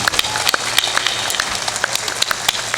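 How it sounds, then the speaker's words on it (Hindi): Loud, lively clapping from a crowd at an outdoor satsang in a pandal in Banka, Bihar, a dense wash of applause punctuated by sharper individual claps, continuing steadily without pause. "थोड़ा जोरदार ताली बजाओ, इतनी मरी मराई ताली बजाते रहो, मंद मत करो, पंडाल फट जाना चाहिए।"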